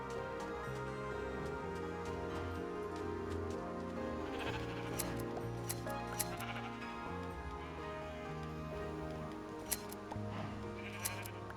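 Sheep bleating in Minecraft: a steady stream of repeated bleats, some overlapping, over continuous background music, with a few sharp clicks scattered throughout.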